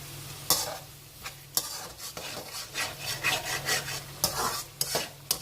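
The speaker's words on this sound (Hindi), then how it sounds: "और इसको बस 2-4 मिनट और मैं थोड़ा सा भुनाई करूंगी" Ginger and spices fry in oil for chicken ginger, a close sizzle broken by repeated scraping strokes of a spoon against the pan in an uneven rhythm, loud and without talk.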